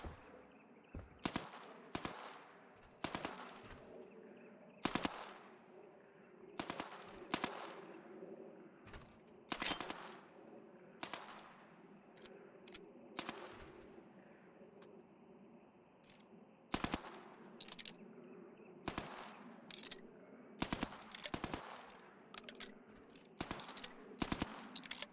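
Automatic gunfire in a VR shooter game, sharp bursts and single cracks scattered through the clip over a steady background hum, moderately loud and close, with no talking.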